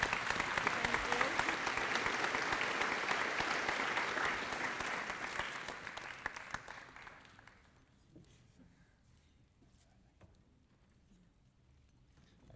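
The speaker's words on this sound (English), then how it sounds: "we really want to thank them and give them a round of applause" Audience applause at a high school awards day ceremony, a loud sustained crowd clapping for about six seconds that then fades away, leaving a quiet hall with faint scattered noise.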